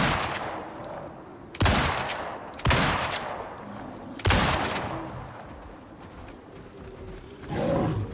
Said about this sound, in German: Da ist der, da ist ein Eisbär.